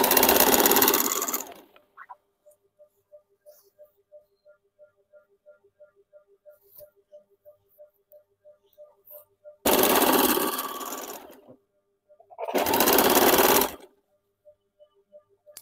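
A sewing machine stitches a petticoat seam in short, rapid bursts between quiet pauses, close by, while someone speaks in between the runs.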